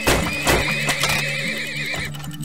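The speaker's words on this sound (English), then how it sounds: "Oh crap. Horses." Horses neigh and whinny in the video game Turmoil, several close, loud calls with clip-clop hooves underneath, layered over game music and effects.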